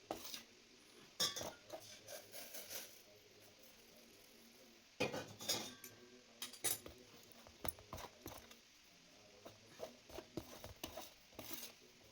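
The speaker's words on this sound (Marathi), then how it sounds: "थोडी कणिक मिक्स करायची" Sorghum flour mixed with boiling water is worked into dough in a pot, giving close, irregular bursts of scraping, clinking and knocking with quiet gaps between them.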